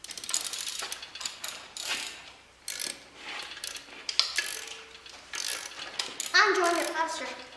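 A ratchet tightens an exhaust bolt on an LS cylinder head in rapid, close, loud bursts of clicking, broken by short pauses, with a voice faintly in the background.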